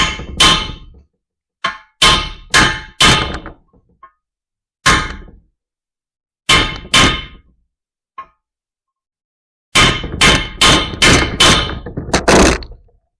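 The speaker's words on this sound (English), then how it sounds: "I'm going to just tap it with a chisel now and see if it comes free." Hammer tapping a chisel against a stuck water inlet on an E93A machine, loud sharp metallic knocks in small bursts of two to four strikes separated by pauses, with a couple of lighter isolated taps.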